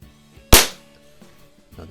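A low-powered plinking air rifle fires one sharp, loud shot during target shooting, with a brief decaying crack and quiet background before and after.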